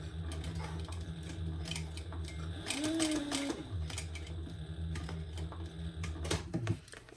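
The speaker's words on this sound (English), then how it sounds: "Now we're going to stitch on this facing piece as close to that slit as we can, staying inside the slit." A sewing machine stitches a facing piece onto a shoulder bag, whirring in short close bursts with brief pauses and mechanical clicks.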